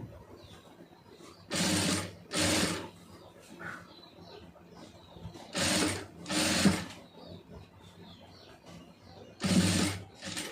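A sewing machine stitches piping onto a neck piece in short bursts, each a loud rapid whirring run of a second or so separated by pauses, with a voice talking quietly in between.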